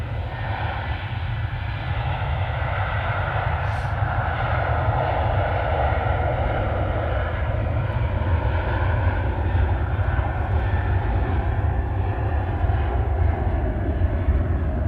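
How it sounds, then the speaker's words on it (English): Jet2's 37-year-old Boeing 757 arrives overhead, its engines producing a loud, continuous deep roar that holds steady and close throughout. "Sophie's saying that the Jet2 is the number 4 tracked on flight radar 24."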